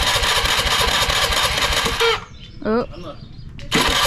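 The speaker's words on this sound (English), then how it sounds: "This is our motorboat." A motorboat engine at a beach in Indonesia running loud and close with a rough, throbbing drone, then cutting out while a voice speaks briefly, then roaring back up.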